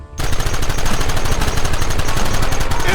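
Shootout in Red Dead Redemption, with rapid, continuous gunfire cracking loudly and close after a brief quiet start, the shots overlapping into a dense barrage.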